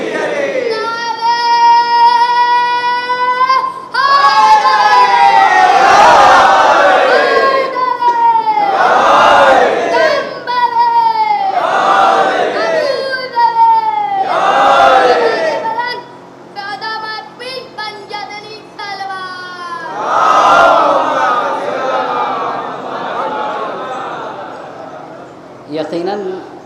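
A crowd at a Shia majlis answers a leader's calls with loud, rhythmic religious chants; shouted call-and-response phrases come in repeated bursts with brief pauses, close and forceful, and a voice is part of the chanting.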